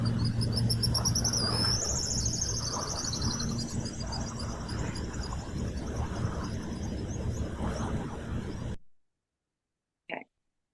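A pair of pigeon guillemots giving a duet trill over heavy water and motor noise, high thin rapid trilling calls repeated near the start, with the boat engine droning underneath.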